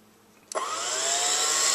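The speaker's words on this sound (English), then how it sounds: "you can start seeing the hookah bubbling by itself" A Shishavac vacuum pump switches on abruptly and runs at a steady, loud whir, its motor hum holding constant while the hookah draws air, with no separate bubbling pulses standing out.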